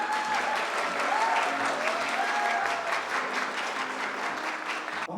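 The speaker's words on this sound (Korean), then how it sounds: "여러분 박수 부탁드립니다" A crowd at a Korean apartment redevelopment launch ceremony in Bucheon claps steadily and densely, a continuous wash of applause welcoming a committee chairman to the podium, sustained at an even level throughout.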